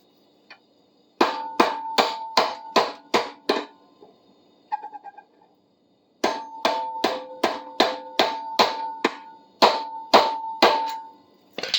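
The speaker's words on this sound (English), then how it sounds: "I have to use a hammer on this." Repeated sharp metallic hammer strikes in quick bursts, about a dozen blows, a brief pause with a faint clink, then another steady run of loud strikes.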